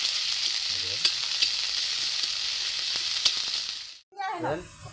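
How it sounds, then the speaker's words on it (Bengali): Onions frying in hot oil as the base for a carrot and potato bhaji give a steady, loud sizzle for about four seconds. Then it drops out abruptly and brief stirring or clattering noises follow. "দেখেন আমরা পেঁয়াজ দিয়া দিছি এই গাজর ভাজাটা করানোর লেগে"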